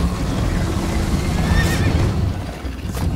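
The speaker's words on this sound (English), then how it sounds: "First time on a horse here." A horse in Minecraft: Story Mode lets out a loud, close whinny over a steady bed of galloping hoofbeats and game noise during a chase.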